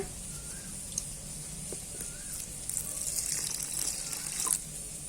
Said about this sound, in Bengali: অল্প একটু পানি দিয়ে দিলাম